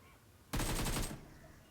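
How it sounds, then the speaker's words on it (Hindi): A single short burst of rapid automatic gunfire in BGMI lasts about half a second, loud and close against a quiet game background. "और स्मोक करते ही एक बग्गी का पीछे से आता है साउंड, मैं प्री फायर देता हूँ"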